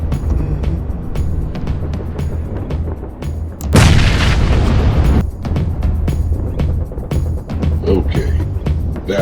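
A grenade bursts inside a house during a military shooter game, a sudden loud boom with a roaring blast tail lasting over a second, surrounded by ongoing gunfire and game noise.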